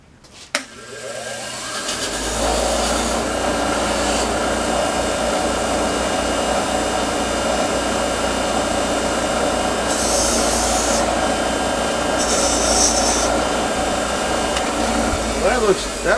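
A grinder spins up after a brief quiet start and grinds a burr off a piece of metal, a loud, steady abrasive roar that holds with slight surges for over ten seconds.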